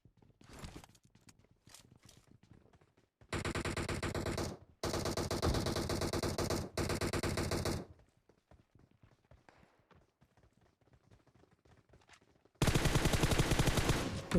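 Gunfire in the mobile game PUBG Mobile on the Livik map, loud sustained automatic bursts around four to eight seconds and again near the end, separated by quieter game ambience.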